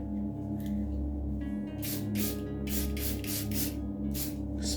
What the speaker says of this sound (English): spray in some water